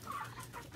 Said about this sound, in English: This is a blue Australorp